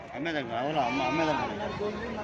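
Goats at the weekly livestock market in Gudur give drawn-out, wavering bleats close by, mixed in with people talking nearby.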